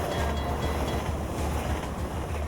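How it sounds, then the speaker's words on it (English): A train rumbles past on the tracks in Half-Life 2, a steady, heavy low roar that holds at full strength for the whole stretch with no voices over it. "we are hiding from this train right here, because if you are on the train tracks"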